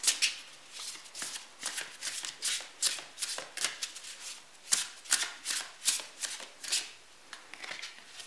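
An oracle card deck being shuffled by hand, a close series of crisp riffling, slapping card bursts in an even rhythm of roughly one per half second, with no talking.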